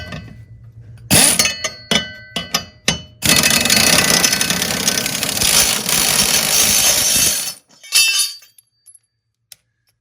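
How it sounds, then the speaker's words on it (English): Air ratchet fitted with a 23 mm socket undoing a lawnmower blade bolt: several sharp metallic clicks and taps, then a loud sustained pneumatic rattle for about four seconds, ending in a short final burst. "Got an air ratchet with a 23 millimeter socket on it."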